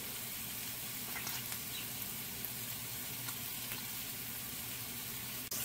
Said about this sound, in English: So I'm going to cook this, breaking up the tomatoes, about 6 to 8 minutes.